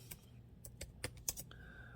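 A few light, irregular computer keyboard keystrokes tap quietly nearby, with brief pauses between the clicks.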